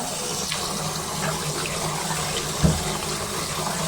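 Tap water runs steadily while leafy greens are rinsed again and again to wash off sand, with a close, even splash and one brief knock.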